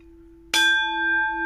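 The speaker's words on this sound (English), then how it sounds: "we just thought we had to have this bell and the sound" A wall-mounted bell aboard a ship at sea is struck once, giving a sharp loud clang that rings on with a sustained bright tone, close and alone.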